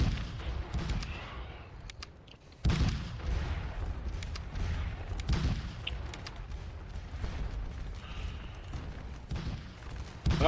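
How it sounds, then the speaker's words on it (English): Artillery guns firing away during a battle in a strategy video game, heard as a dense rumble of booms and crackling fire with no pauses. "Our guns are still continuing to fire away here."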